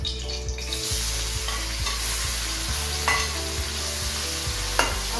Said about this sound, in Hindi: अब हम इसके अंदर प्याज डालते हैं। 1 दरमियाने साइज का प्याज।